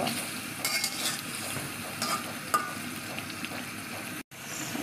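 Gochi fish frying in spice paste in a pan, with a steady close sizzle, scraping stir strokes and a few light clinks of the utensil against the pan, continuing without a break.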